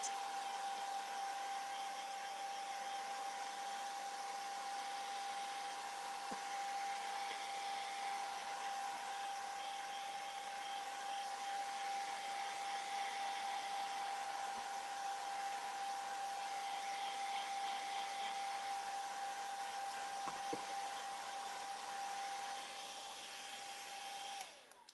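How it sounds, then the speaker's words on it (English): A loud heat tool blows steadily and continuously up close, a constant whooshing drone with a fixed whine, running unbroken nearly the whole time before cutting off at the very end. "I'm sorry this is so loud, but as I said before, my daughter has my heat tool."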